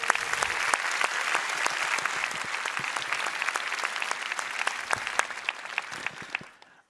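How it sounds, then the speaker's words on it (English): At a Nobel Week Dialogue gathering, an audience breaks into applause, with distinct individual claps standing out over a steady patter before it fades out over about seven seconds. "I think a round of applause for being here"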